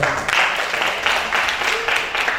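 Applause from an audience at a Yogyakarta literary event, as a panel guest is introduced; a steady, moderately loud wash of clapping that lasts throughout with no pause.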